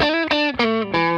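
Electric guitar runs through a subtly set Klon overdrive in a Line 6 Helix: several bright, lightly driven sustained chords or notes, each with a rich harmonic ring and brief gaps between, loud and alone.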